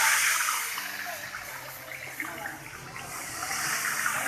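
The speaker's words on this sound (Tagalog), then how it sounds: "Medyo isaw-saw natin sa tubig." Water rushes and splashes steadily as fried chicken is dipped halfway into water before refrying for a street food stall, a loud continuous wash with no talking.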